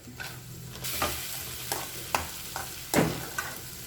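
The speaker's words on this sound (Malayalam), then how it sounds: "ഇതിലേക്ക് കുറച്ച് കിസ്മിസ്." Raisins fry in oil in a pan while an egg biryani is being made, with a soft sizzle broken by several sharp pops and spatters and the scrape of stirring, all close by and with no voices.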